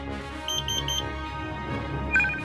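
A crane's proximity alert buzzer sounds three quick high beeps, then another short beep near the end, over a steady mechanical hum.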